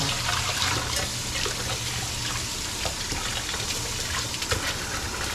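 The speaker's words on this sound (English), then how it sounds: "You're letting water go into what you strained." Water runs steadily into a strainer set over a bowl in a home kitchen while cooking duck à l'orange, a continuous close splashing rush that holds at an even level throughout.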